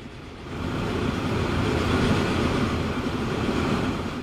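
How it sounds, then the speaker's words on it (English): A San Francisco commuter train in a model railway setting runs steadily, a continuous rumbling roll that swells slightly then holds at an even, moderately loud level with no voices. "we'll let that San Francisco commuter train work its way all the way across the continent of America."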